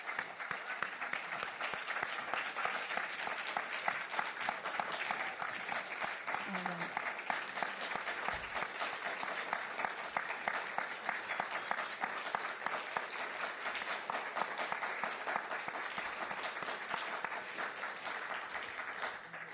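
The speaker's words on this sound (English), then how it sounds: "Can we please get one more round of applause?" An audience claps after a poetry reading, a steady, even patter of applause from a moderately sized crowd that continues without break, heard from some distance.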